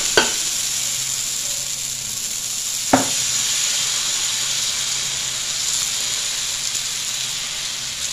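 Dosa batter cooking on a hot pan greased with ghee gives a loud, steady close-up sizzle and hiss, broken by a couple of sharp clicks, with no voices.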